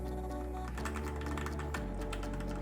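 Typing on a MUCAI MKA610B 60% mechanical keyboard produces a rapid, steady stream of close, quiet key clicks with a soft thunky bottom-out.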